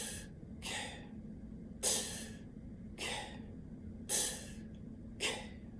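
A voice imitates someone breathing, with six breathy puffs at roughly one-second intervals. Each puff is close and moderately loud, over a faint low hum.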